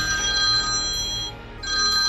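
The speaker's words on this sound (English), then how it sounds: "Suddenly, a loud, jarring ring ripped through the quiet. The old phone on the nightstand vibrated violently." An old telephone on a nightstand ringing loudly at night, a continuous electronic ring with a brief dip in the middle, close and alone in a quiet room.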